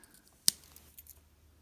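Small scissors on a Swiss Army Huntsman 91mm pocket knife being handled, one sharp metallic snip followed by a few faint light clicks in a quiet room.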